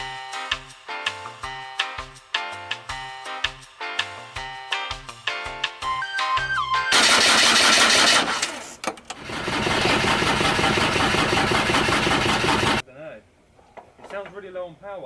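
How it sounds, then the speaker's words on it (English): A boat or vehicle engine on low batteries cranks in a loud, broadband grinding burst of about six seconds, coughing and almost catching before it dies, framed by brief rhythmic clicking beforehand and quiet chatter afterward. "I felt like we nearly had it with the engine. It was this close to starting, but sadly the power's just got too low"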